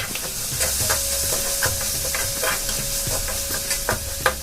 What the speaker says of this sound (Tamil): அடுத்தது இஞ்சி பூண்டு போட்டுக்கலாம்.